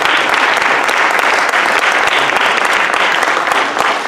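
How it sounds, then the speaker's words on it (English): A crowd at a ceremony honoring officers claps loudly and continuously, a dense, steady wash of applause with no pauses throughout. "Mr. Robert Stevens, give him a round of applause."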